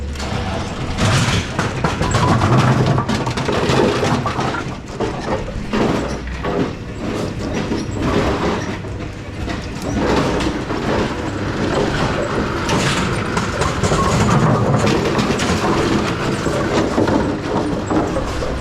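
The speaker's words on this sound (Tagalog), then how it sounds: "para dire-diretso yung takbo ng oiling machine walang harang sa ilalim" A bowling lane oiling machine runs down a lane cleared of pins, giving a steady, loud mechanical whirring and rumbling that continues throughout with slight surges and no talk.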